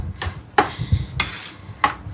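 A spoon scrapes and clinks against a bowl while chopped banana stem mixture is stirred for a no-cook dish, a few separate strokes close by with quiet pauses between them.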